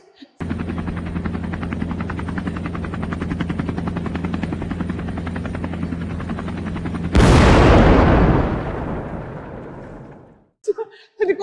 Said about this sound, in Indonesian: Helikopter terus.